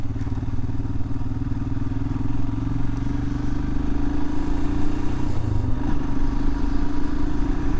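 Royal Enfield Himalayan motorcycle on a gravel detour along the Blue Ridge Parkway, its single-cylinder engine droning steadily and close with loose crunching and rattling underneath, no talk.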